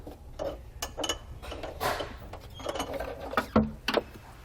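A wing nut holding the spare tire in a 2017 Audi is unscrewed by hand, producing close, quiet metallic clicks, scrapes and ratcheting turns in irregular bursts.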